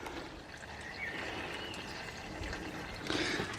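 Fluid drains from the opening left by a removed BMW Dynamic Drive solenoid, a faint, close trickle and pour that swells briefly near the end, alone without talk.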